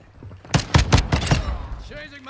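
A Call of Duty Modern Warfare II firefight: a rapid run of about five sharp, loud shots in quick succession, then a fading tail, with a voice speaking briefly around the burst.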